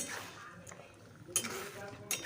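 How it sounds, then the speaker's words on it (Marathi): A spoon stirs pumpkin kheer in a pot, with faint scraping and a couple of bright metallic clinks against the pot's side, quiet and close. "आता आपण हे हलवून घेऊया"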